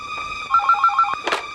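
Telephone ringing indoors: a short electronic ringtone of rapid pulsing tones, loud and close, ending with a brief knock.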